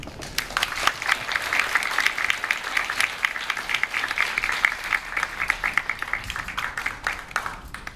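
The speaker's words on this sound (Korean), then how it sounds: "큰 박수로 환영해 주시기 바랍니다" Audience applause welcoming a speaker at the Asan Academy entrance ceremony, a steady patter of many hands clapping from a seated crowd, moderately loud and even, with sharper individual claps standing out as it tapers.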